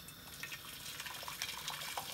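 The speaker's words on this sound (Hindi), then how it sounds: "तो ये पूरा 1 केटल जितना मैं डाल देती हूँ पानी" Boiling water pours steadily from a kettle for steaming dhokla, a continuous close splashing and gurgling rush with no talking.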